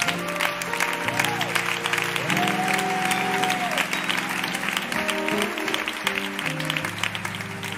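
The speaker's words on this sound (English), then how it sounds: "Let's give the preachers a good hand clap." A church congregation applauds the preachers with continuous, even hand clapping while sustained organ or keyboard chords play underneath for the whole stretch.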